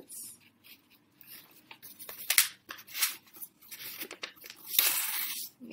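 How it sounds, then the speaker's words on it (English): A sheet of paper is folded in half and creased down during a children's Sunday school craft. Close and soft, it gives short rustles and crinkles, then a longer sliding press along the fold. "So I'm going to fold it in half once."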